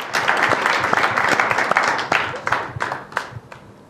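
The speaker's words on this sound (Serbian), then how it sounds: "Molim vas veliki aplauz za nju." A studio audience at a televised singing competition breaks into dense, sustained applause, steady clapping that stays loud before thinning and fading toward the end.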